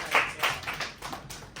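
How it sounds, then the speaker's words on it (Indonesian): A classroom of students gives a short round of applause, scattered claps with a few sharp taps standing out, brief and moderately loud. "Beri tepuk tangan untuk kalian semua."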